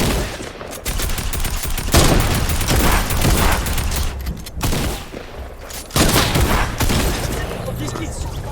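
Rapid automatic weapon fire and bursts from the video game Fortnite, dense and continuous with brief pauses, while a person talks over the gameplay.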